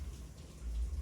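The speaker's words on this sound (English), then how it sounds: "And the rain's still coming down." Steady rain falls over an outdoor late-night rave scene, a soft continuous hiss with low rumbling beneath, no voices.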